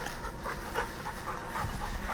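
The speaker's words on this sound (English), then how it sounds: "No, it's the fucking dog breathing like that." A dog pants heavily close by in quick, rhythmic breaths, steady and fairly loud throughout, with no talking.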